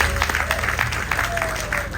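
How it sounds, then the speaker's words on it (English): An outdoor audience at the commissioning of the Makarios water fountain claps in a lively, continuous round of applause, with people talking over the clapping. "You want to give yourself a big round of applause?"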